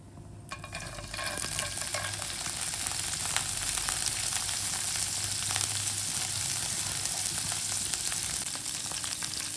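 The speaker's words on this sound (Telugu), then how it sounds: "శనగపప్పు ఫ్రై అవుతున్నప్పుడు పచ్చిమిర్చి కూడా యాడ్ చేసుకుంది" Soaked chana dal frying in oil in a nonstick pan, with green chilies added, gives a steady, close, continuous sizzle and crackle throughout.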